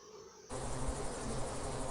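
Bees buzz in a dense, steady drone that switches on abruptly after a quiet half-second and then holds close and even to the end.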